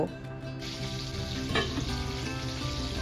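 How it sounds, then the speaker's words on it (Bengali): Cauliflower frying in a pan, a steady close sizzle layered over a low constant hum, with a brief louder crackle midway. "এদিকে চলছে ফুলকপি ভাজা"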